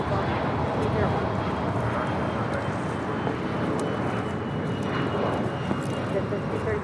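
A jet airliner takes off from runway 25 right at LAX, its engines a steady, loud broadband roar that holds for the whole stretch, with talk faintly under it.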